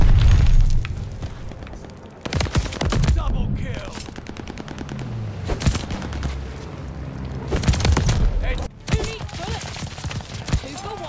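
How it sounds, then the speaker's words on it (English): A glide bomb strike in Call of Duty lands amid bursts of rapid machine-gun fire, with several heavy booming blasts breaking through the chaotic firefight. "Friendly sending a glide bomb."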